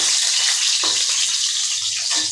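Potatoes and tomatoes frying in oil in a pan, a bright, hissing sizzle, close and fairly loud, with a few brief spatters over about two seconds.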